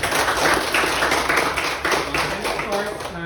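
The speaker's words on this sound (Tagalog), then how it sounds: "Bigyan ng palakpak si Sir Miguel" An audience at a school demonstration-teaching session applauds the teacher, a steady, fairly soft wash of many hands clapping together, with voices murmuring underneath.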